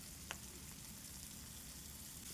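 Pumpkin fries in a pan as a faint, even crackling sizzle with one small tap near the start, quiet and without speech.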